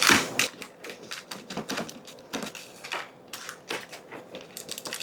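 A cooked pizza, baked in a sun oven, being cut up with a series of crisp, rapid clicking chops and scrapes at close range, irregular in rhythm and free of talk.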